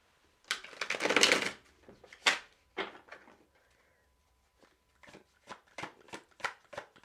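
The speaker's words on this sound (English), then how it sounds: "One more shuffle." Tarot cards shuffled by hand in a quiet room: a dense riffling burst, a few separate slaps and taps, then a rapid string of crisp card snaps toward the end, close and fairly faint.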